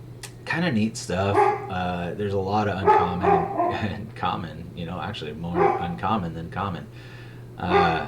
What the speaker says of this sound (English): So I don't know if you can hear my dog barking.